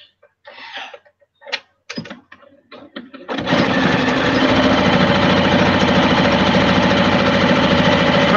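Rag quilt fabric is run through a sewing machine: a few scattered taps and rustles, then a loud, steady whirring hum of continuous stitching that carries through to the end, close and with no talk.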